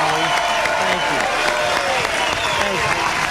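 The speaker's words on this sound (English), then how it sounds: "Give them a big round of" Crowd applause at a 1994 election night event for a candidate's family, steady clapping with voices talking over it throughout.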